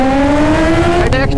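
Kawasaki ZX10R motorcycles, one fitted with an aftermarket exhaust, accelerating hard off a race start, a loud, close engine wail rising steadily in pitch before a brief shift-like break near the end.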